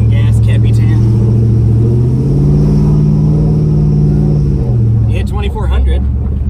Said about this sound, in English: I'll give it some gas, Cappy Tan.